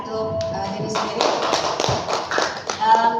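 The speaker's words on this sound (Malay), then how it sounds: "So a very big hand to yourself, tepuk tangan untuk diri sendiri." An audience at a business discussion session claps, a burst of scattered, close hand claps and taps building into applause with voices murmuring through it.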